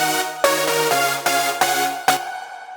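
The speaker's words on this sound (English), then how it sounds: "If I was to go on lead 1 and turn on effects 1, adds a huge reverb, it would sound like this." Synthesizer lead chords from a festival big-room track patch, drenched in huge reverb, strike five times in a steady rhythm, each hit blooming bright and thick before a long washy tail fades out alone.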